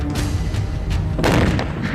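A building is blown apart by an explosion in Afghanistan's Anardara district, with a loud, sustained rumbling blast and heavy low-end roar swelling again as the structure collapses, with no talking.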